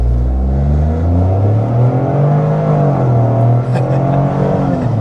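A 2025 Toyota GR Corolla with an 8-speed automatic drives around town, its engine humming loud and near inside the cabin as the pitch rises and falls smoothly through gear changes.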